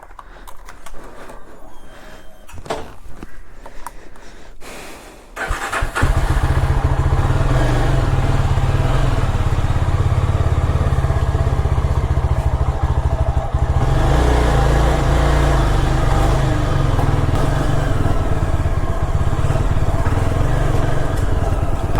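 A motorcycle engine starts up after a few seconds of quieter handling noises, then idles loudly and steadily close by for the rest of the time.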